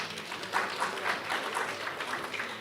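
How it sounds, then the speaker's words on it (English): Applause from a conference audience welcoming a panelist, a thin, moderately distant patter of clapping hands with a few louder individual claps, continuing steadily without talk. "Please give Javariah a round of applause"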